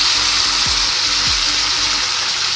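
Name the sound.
dried red chillies frying in a pan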